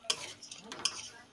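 Chicken pieces go into a pan of spiced Bengali curry with potatoes, with soft sizzling under a few sharp metallic clinks of a spoon against the pan, quiet and close.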